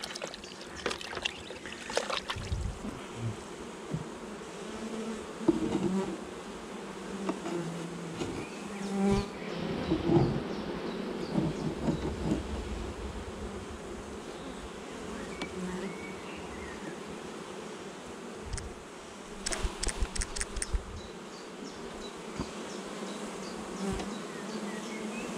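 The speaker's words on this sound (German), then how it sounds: "Bienen bitte nur dann wegpusten, wenn ihr immun seid, im Gesicht vor Bienenstichen." Honeybees hum steadily and close by as a hive is opened for a swarm inspection in a permaculture garden, a continuous drone with brief louder passes and faint handling noises.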